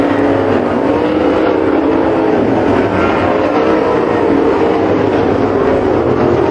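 Sprint cars at Waco roar down the front straightaway in a loud, continuous engine drone that stays dense and steady throughout, with no speech over it.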